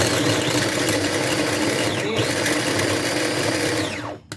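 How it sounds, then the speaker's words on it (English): A blender runs loudly and steadily at high speed, its motor whirring continuously before spinning down and cutting off near the end. "I purchased this particular blender from Walmart a couple of years ago."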